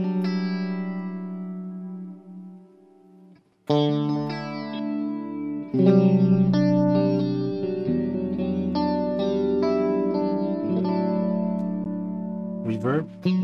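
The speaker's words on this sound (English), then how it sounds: "Add some chorus." Electric guitar played through the chorus effect of a Boss ME-90 multi-effects unit, with sustained shimmering chords and single notes ringing out loud and close, no talking over the playing.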